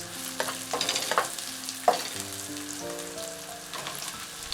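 Garlic, ginger, mushrooms and onion stir-frying in hot oil for Chinese noodles with shrimp, a close sizzle broken by scraping stirs and light clinks of a utensil against the pan.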